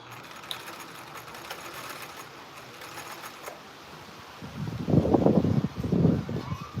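A sewing machine that is not running normally sews a scrap bag: a faint mechanical hum gives way to two loud, close bursts of rapid stitching near the end.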